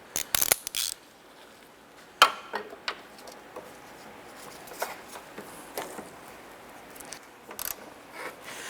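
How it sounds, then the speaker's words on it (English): A hand ratchet removes the inboard front strut bolt in the cowl area of a 2007-2012 Nissan Versa. Scattered sharp clicks and short ratcheting bursts come up close against a quiet background, with no speech. "I'm going to switch over to the hand ratchet to go ahead and get the inboard one here in the"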